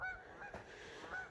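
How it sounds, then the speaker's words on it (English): Several geese honk in short nasal calls as they fly overhead, repeated at a steady interval and moderately distant, standing out over a soft outdoor background hiss. "Got some noisy geese flying over."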